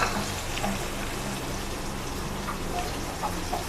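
Stuffed round gourds (tinda) fry in hot oil with a dense, rain-like patter of sizzling. The crackle is steady and fairly loud throughout and has no talking over it.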